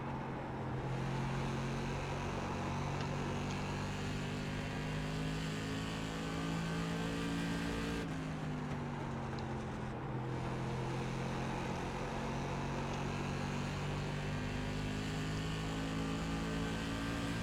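An SK Modified race car engine in the iRacing sim at Thompson Speedway, a loud continuous roar with sustained throttle and a brief dip in pitch midway, no speech.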